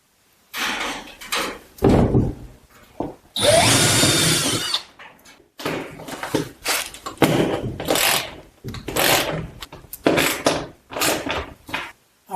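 A power drill drives wall anchors into a wall stud while an overhead garage storage rack is mounted, with repeated short whirring bursts separated by pauses and a longer grinding run in the middle.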